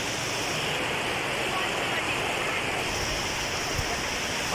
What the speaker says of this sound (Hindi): तो इस वीडियो में थोड़ा सा विज़िट करते हैं हम इस झरने को।